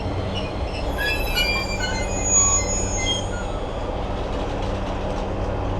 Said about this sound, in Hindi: तो ऐसी होती है भाई जापान के गाँव की ट्रेन।